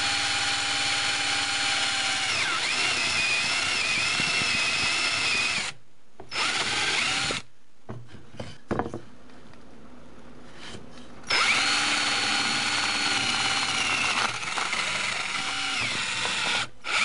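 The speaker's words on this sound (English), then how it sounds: "Drill a 3/4-inch hole in the center of the foot-long 2x4." A power drill bores a 3/4-inch hole through a 2x4 board, a loud steady whine running for several seconds, pausing briefly, dropping out, then returning for another long run.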